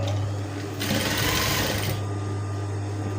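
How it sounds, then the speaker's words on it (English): A sewing machine stitches pleats on a maxi kimono dress, a steady close mechanical whir that speeds into a brief faster burst before easing back to a running hum. "You are sewing like this."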